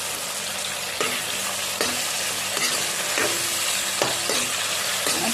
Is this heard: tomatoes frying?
yes